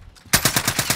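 Rapid automatic gunfire in the video game Warzone Rebirth bursts in loud and close after a quiet moment, about seven evenly spaced shots in a quick steady rhythm with no talking.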